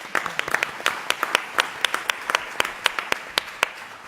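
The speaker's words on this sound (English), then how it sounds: "So one round of applause for the staff, please." Audience applause for the staff at a planning and transportation committee meeting, sparse individual claps ringing out steadily over several seconds from a modest gathering, with no talking over them.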